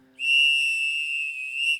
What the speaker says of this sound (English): a referee whistle.